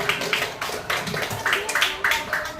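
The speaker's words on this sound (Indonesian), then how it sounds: "Beri tepuk tangan untuk kelompok ke-6" Audience in a classroom gives a brief round of applause for the sixth group, a short burst of hand claps, moderately loud and close, with voices speaking alongside.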